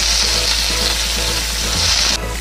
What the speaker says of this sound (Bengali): সেই কুচানো পেঁয়াজটাকে এবার আমি দিয়ে দেবো